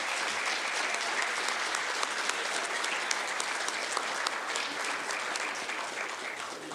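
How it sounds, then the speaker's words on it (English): A room full of people clapping for nominees and winners at a college rising sophomore awards ceremony, with thick, even applause going on for several seconds and no voices over it. "Can we have one more round of applause for our nominees and our winners?"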